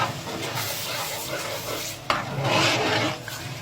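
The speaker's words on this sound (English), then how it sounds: "We're going to be adding that into the pot as well, and also give it a good mix." Blended, cooked tomatoes are stirred into a pot of Senegalese thieboudienne, a steady wet scraping and churning with a soft sizzle underneath that swells near the end.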